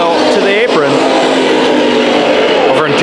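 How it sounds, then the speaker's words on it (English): Race cars roaring around Bakersfield Speedway during a Friday heat race, loud continuous engine drone with rising and falling pitch as cars pass close by, under an announcer's steady commentary. "Two Hagios racing out here."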